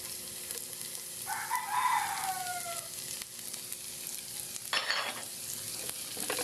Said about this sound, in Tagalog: Sunod natin yung sibuyas, Dawan.